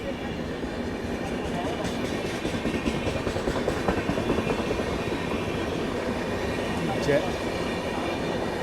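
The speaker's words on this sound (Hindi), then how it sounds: "ये ट्रेन नागदा स्किप कर रही है" A long passenger express train runs straight through Nagda station without stopping, a steady dense rumble and rattle of wagons on rails filling the whole stretch, with faint voices talking beneath the noise.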